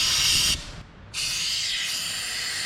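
Air blown through a disconnected fuel line on a 1973 Chevrolet C10 pickup to test for a clog, a steady close hiss that dips briefly in the middle and then resumes at full strength.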